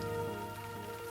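Steady rain falls with a dense, even patter and hiss that continues without a break, fairly faint and heard alone.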